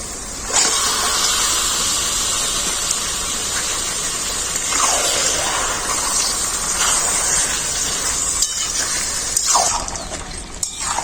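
Mutton pieces sizzle steadily in a hot pan of lightly fried ingredients, a continuous loud frying hiss with brief spits and stirring scrapes, no talk.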